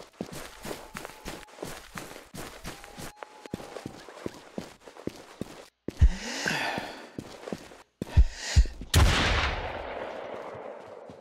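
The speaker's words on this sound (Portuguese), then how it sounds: "Só pra dar um tiro, só pra gastar uma bala." Gunfire in the survival video game Infestation The New Z, in the Caliwood area: a few loud, sharp shots with ringing decay cut in after a stretch of quiet footsteps.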